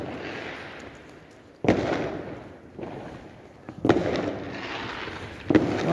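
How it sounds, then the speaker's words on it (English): New Year fireworks burst outdoors in several sharp booms, about four loud explosions at irregular intervals, each trailing into crackle over a continuous distant rumble of more fireworks. "Well, you got some more fireworks."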